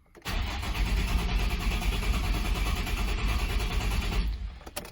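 A Nissan 350Z HR's starter cranks the engine, a loud, steady churning drone that runs unbroken for about four seconds before cutting off, with no talk over it.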